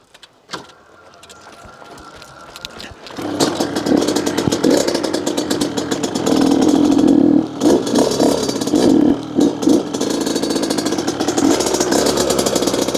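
A Honda HM 100cc supermoto motorcycle starts with a few clattering tries, then settles into a buzzing, rattly single-cylinder idle close by, with blips of revving that rise and fall before easing back.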